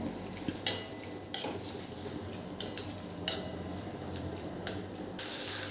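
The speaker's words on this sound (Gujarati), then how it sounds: "એમાં 1 ટીસ્પૂન જેટલું આદું એડ કરી દઈશું, એને મિક્સ કરી લેવાનું છે" A spoon stirs ginger into a cooking dish with tomatoes and capsicum, giving a handful of sharp scraping clinks at irregular intervals over a low steady background hum, close and fairly quiet, with no talking.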